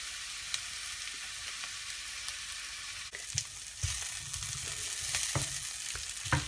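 Onions caramelizing in a pan give a steady close sizzle, broken by occasional spatula knocks and scrapes that briefly swell the frying noise, with no talking.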